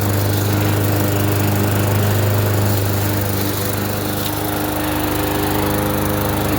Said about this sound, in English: So far, it's mowing pretty good.